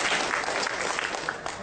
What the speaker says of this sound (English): Let's give a round of applause for our volunteer.